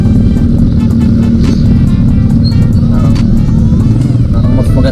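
Loud, close street traffic in the Philippines rumbles continuously, with car and motorcycle engines droning together and a passing vehicle swelling briefly in the middle.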